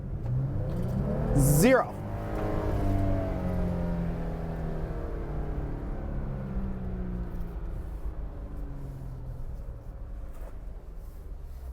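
A Jeep Wrangler JL Rubicon floored at full throttle, the engine surging in a short loud burst and then easing into a long, gradually falling drone. Someone speaks briefly over it.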